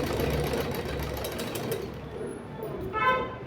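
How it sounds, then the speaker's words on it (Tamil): A sewing machine runs steadily while stitching the shoulder seam of a blouse, its fast mechanical chatter close and continuous for about two seconds before easing into lighter, quieter running. "ஷோல்டரில் 2 தையல் கொடுக்கணும்."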